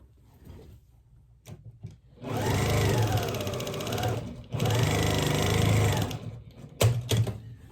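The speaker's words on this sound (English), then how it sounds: "So I'm gonna take this over to the machine and sew it on." A sewing machine stitches a fabric quilt square made from mask scraps in two steady runs of fast, even mechanical whirring, close and loud, separated by short pauses with a few light handling clicks.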